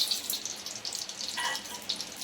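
Mustard, cumin and fenugreek seeds sizzle in hot oil for a sambar tempering, a steady close hiss with faint crackles and no talk.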